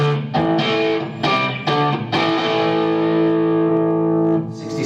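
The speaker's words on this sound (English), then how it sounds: "So a really nice, smooth, singing, creamy distortion." An electric guitar played through a Blackstar ID series amp gives a smooth, creamy, singing distortion. A few chopped chords lead into one long sustained chord that rings out and slowly fades, loud and alone with no talking.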